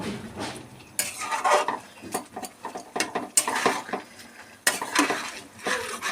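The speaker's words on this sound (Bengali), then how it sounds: "এবার এইভাবে পুরোটা মিশিয়ে দেবো" Fried pieces being stirred into a Bengali tarka curry in a pot, with bursts of scraping and clinking from a spoon against metal and soft sizzling between, close and fairly loud, no talking.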